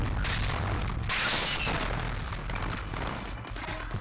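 Rapid pistol gunfire from the Warzone video game comes as loud, quick bursts of sharp shots and booms, bunched early and then tapering off.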